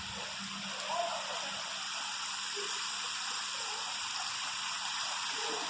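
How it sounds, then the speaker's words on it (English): Steady rain falls in a rainforest as a soft, even hiss with faint dripping, quiet and unbroken throughout. "Oh, it's raining again."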